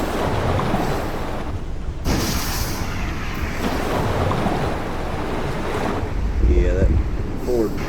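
A Lego patrol boat rides across water in Lego Fortnite, with a continuous rushing wash of waves and wind, a brief break, and small splashes near the end.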